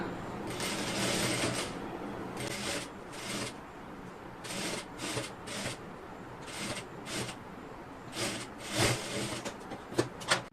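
A sewing machine stitches a cross piece onto a blouse neckline, giving repeated short bursts of fast mechanical whirring with pauses between runs, fairly quiet and close.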